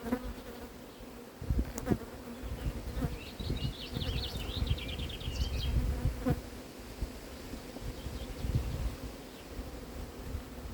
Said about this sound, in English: Look how many bees.